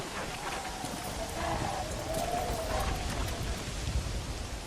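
Horse hooves clip-clopping in Red Dead Redemption, a steady rhythmic trot of fairly faint, close hoofbeats over a soft rainy-sounding ambient hiss, with faint voice-like tones in the background.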